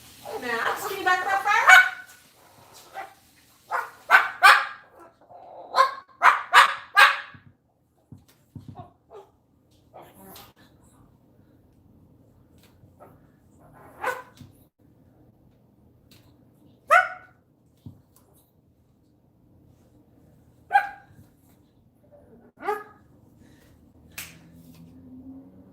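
Max, a pet bird, barks like a dog, a bird's voice imitating the sound, in a quick cluster of sharp yaps early on followed by sparse single calls, close by amid quiet room sound.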